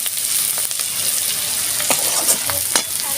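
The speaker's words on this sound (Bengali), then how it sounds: "পেঁয়াজ আর উচ্ছে আমি এইভাবে ভেজে নিয়েছি।" Sliced onion and bitter gourd fry in oil in a pan, a steady close sizzle with occasional stirring scrapes and pops, no voices.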